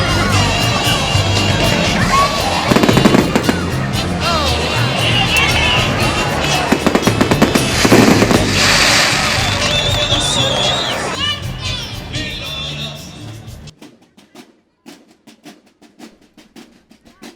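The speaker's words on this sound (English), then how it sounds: "the closest fireworks display I have ever seen" Close fireworks display at a town celebration in Mexico, dense booms and crackles over a cheering crowd with children shouting, loud and sustained before cutting off abruptly into near silence.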